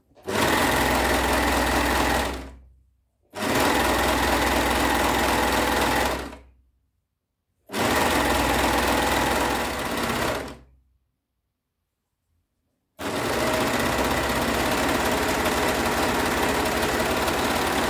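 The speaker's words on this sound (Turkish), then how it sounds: "Bacak arasını dikiyoruz." A sewing machine stitches the crotch seam of pajamas in four loud, close runs of rapid mechanical chatter, each lasting a few seconds and separated by short silent pauses.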